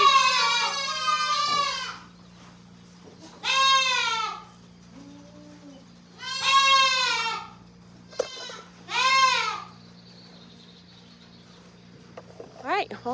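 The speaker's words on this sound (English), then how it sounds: "Goats. They will settle down once I am not out here talking." Farm goats bleat in loud, wavering calls, four separate outbursts spaced a couple of seconds apart, with a low steady hum underneath and quiet gaps between them.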